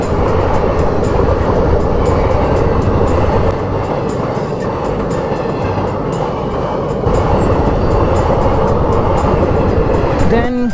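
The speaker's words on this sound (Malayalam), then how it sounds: "എന്തായാലും നമുക്ക് ട്രെയിൻ കാണാനുള്ള ഭാഗ്യമുണ്ട്." A train rolls past at close range with a continuous heavy rumble and rattling for about ten seconds, steady and loud, with no clear voices over it.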